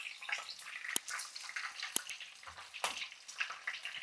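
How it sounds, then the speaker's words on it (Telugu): Small cut pieces of chicken frying in oil for a chicken curry, a faint, steady crackle and sizzle broken by a few sharp pops and spatters, with no voices. "ఆయిల్లో కొంచెం ఇది దోరగా వేగాలి. ఈ చికెన్ వేసేస్తున్నాం."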